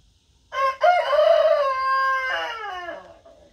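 A newly bought rooster crows once in a long, loud, close cock-a-doodle-doo at a backyard chicken coop, the call rising then trailing off, with no voices alongside.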